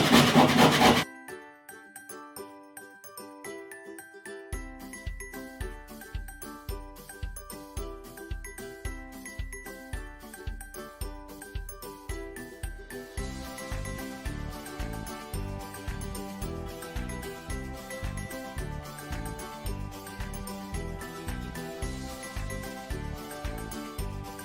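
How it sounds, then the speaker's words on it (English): Frozen ginger rasped on a small kitchen grater, opening with a loud scrape and then steady rhythmic strokes that grow busier and rasping, close up and continuous without speech. "And then to grate it, just use a little grater."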